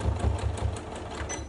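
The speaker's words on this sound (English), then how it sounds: "So I'm literally just going to sew right over it." Close, steady whirring of a sewing machine stitching over a tote bag handle, running continuously with a fast, even needle rhythm.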